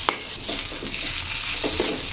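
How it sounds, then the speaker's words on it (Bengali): Thinly cut samosa filling being stirred and fried in a pan, a constant nearby sizzle broken by a few scraping strokes of a spatula, with no voices. "আমি এইভাবে নেড়ে নেড়ে ভেজে নিয়েছি।"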